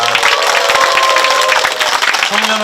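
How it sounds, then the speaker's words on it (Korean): A congregation at a Monday mass praying for the restoration of the Saemangeum ecosystem claps for a priest, a dense, loud burst of applause that fills the whole moment, with a voice faintly underneath. "그리고 나운동의 김기훈 신부님 또 박수 한번 쳐주십시오"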